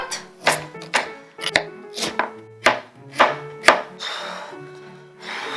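Carrots being chopped for pad thai on a cutting board, about nine crisp knife strikes in an uneven rhythm, close and clear with short pauses between cuts.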